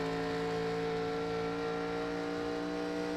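A race car at Homestead Miami, running near the tail of the field, drones steadily at close range, its engine note holding fairly even without clear on-off throttle breaks.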